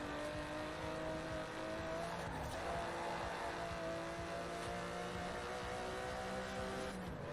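Aston Martin DB11 with a 5.2-litre twin-turbo V12 in Forza Horizon 4, its engine droning steadily and loud throughout with sustained revving tones, no talk over it.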